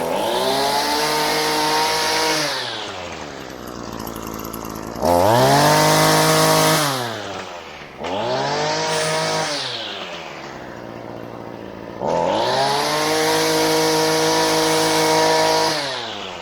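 A Redmax string trimmer's small two-stroke engine running warm, loud and close, revving up and dropping back to idle several times in long sustained bursts.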